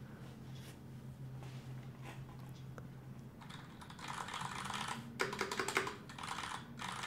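Quiet, steady typing on an NK65 Entry Edition mechanical keyboard with clicky keystrokes that grows louder and busier partway through, with no talking.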